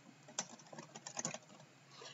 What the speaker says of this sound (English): While it is highlighted, I start typing my text.